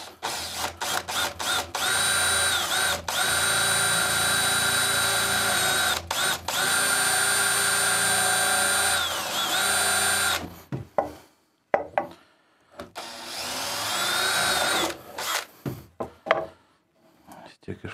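A power drill bores into wood for a workbench cabinet, its steady high whine running in long bursts near the mic, broken by brief stops, then ending in short choppy pulses with quieter gaps.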